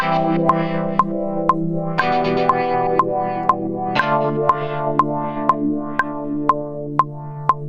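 A sustained, chorused guitar-synth pad from a UJAM virtual guitar plugin shifts through slow chords, washed in echo and distortion, with a steady metronome-like click ticking throughout.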